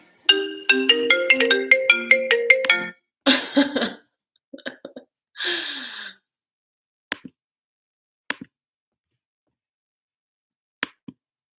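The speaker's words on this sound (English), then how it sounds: "I got a phone call in the middle." A phone ringtone from an incoming call plays a bright electronic melody for about three seconds during a home yoga backbend session, followed by scattered rustles, breaths and a few sharp clicks, with no talking.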